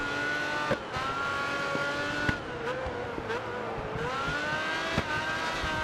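A McLaren car in the GRID Autosport racing game drones with a steady engine note that rises and falls through gear shifts. Tires squeal now and then, and a few sharp knocks cut through the near, continuous roar.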